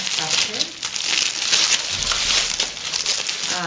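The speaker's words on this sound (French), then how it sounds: "Je déballe. J'arrache. Je mets par terre." Close crinkling and tearing of a wrapped gift pouch being unwrapped and ripped open, a busy papery rustle running steadily for a few seconds before quieting.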